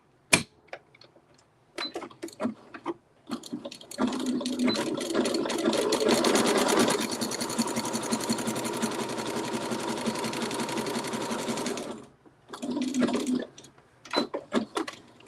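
A domestic sewing machine backstitches quilt-as-you-go quilt pieces, first in a few short stuttering bursts, then in a long rapid run of stitching before stopping and giving a couple more brief runs.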